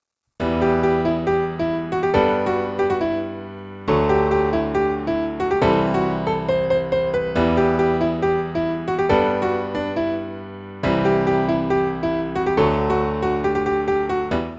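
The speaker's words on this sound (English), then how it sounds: "the break melody is just on piano at the moment" A piano carries the breakdown melody of an electronic track, phrases of chords and notes repeating in sections separated by short gaps, clear and alone with no talk.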